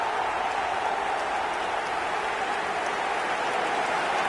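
Steady, dense clapping from a stadium crowd of football fans in an e-football video game, a continuous wash of applause at even loudness with no pauses.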